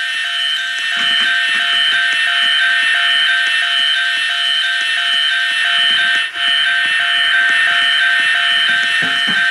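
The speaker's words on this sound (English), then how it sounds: "now there's an alarm on." A loud, steady electronic alarm blares continuously in the Rainbow Friends video game, a harsh tonal buzzing that holds unbroken for the whole stretch with no voices over it.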